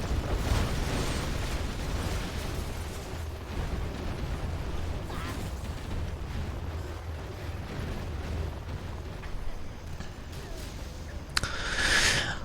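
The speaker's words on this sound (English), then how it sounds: "Artillery is coming in." Artillery shells land in a real-time strategy game battle, a steady rumble of distant explosions and bursts under an ongoing commentator's voice, with a sharper blast near the end.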